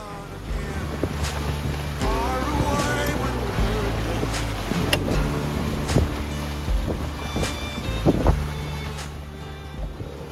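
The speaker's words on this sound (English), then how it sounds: "Hear the difference in the wind." Steady wind and water rush aboard a sailboat at sea on a night passage from Puerto Rico to the Dominican Republic, broad reaching on starboard tack in 14 to 20 knots, with continuous broadband roar and occasional creaks and knocks.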